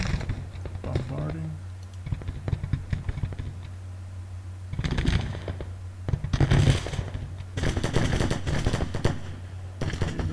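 Artillery bombardment and musket fire in a Civil War strategy game battle at Norfolk crackle in dense bursts, with rapid popping volleys and heavier booms that rise and fall over the span.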